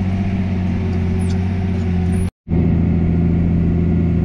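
Tractor engine labouring steadily while pulling a seed drill across a rapeseed field, a loud droning hum with strong low tones, cut by a brief gap of silence midway before resuming.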